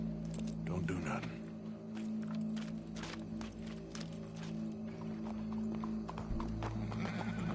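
Horse hooves clip-clopping with a neigh in the video game Red Dead Redemption 2, soft, uneven hoof thuds over a steady low game background hum.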